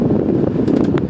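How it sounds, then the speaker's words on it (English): Steady airy whoosh of the air conditioning fan blowing inside a 1993 Ford Bronco, constant and close for a brief moment. "the AC feels pretty good up there"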